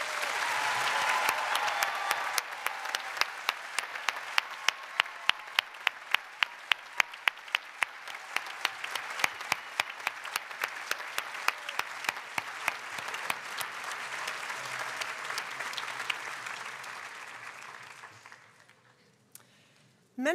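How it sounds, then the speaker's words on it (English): Steady applause from a crowd at a school graduation, sustained clapping that holds for most of the stretch before fading out near the end. "Please join me in giving these students a round of applause."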